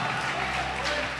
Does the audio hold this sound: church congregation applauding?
yes